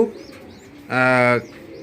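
A racing pigeon gives a single short, close coo lasting about half a second, rising out of a quiet, slightly noisy background.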